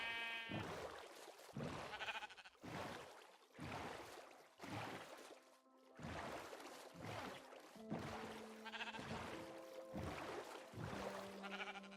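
Black sheep in a video game bleat repeatedly, a series of separate, fairly close calls spaced a second or so apart, with faint game tones in between and no talking.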